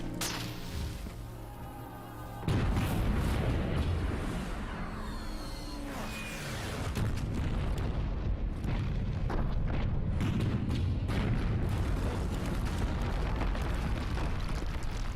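Artillery fire and explosions in an action movie battle: a sudden loud boom breaks in, then a sustained heavy rumbling roar with scattered crashes and bangs continues.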